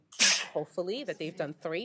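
A single sharp sneeze bursts out at a school district board of education meeting, immediately followed by someone speaking.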